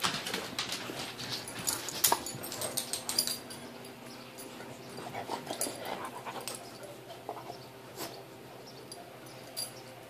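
Puppies whimpering and panting indoors, with scattered high whines and soft yelps over quick breathing, some louder bursts early on and quieter stretches after, with no talking.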